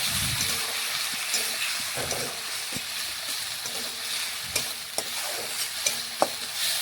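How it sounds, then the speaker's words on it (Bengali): Onions and spice paste being stirred in a frying pan, a steady soft sizzle carried under repeated scraping strokes and light spoon knocks against the pan. "এখন নাড়াচাড়া করে ভালোভাবে মিশিয়ে নিচ্ছি পেঁয়াজের সাথে মশলা"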